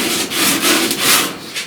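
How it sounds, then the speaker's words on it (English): Sandpaper is worked over curved metal on a truck cab corner during dent-repair body work, giving steady, loud back-and-forth rasping strokes with no talking. "I'm sanding nothing but curves"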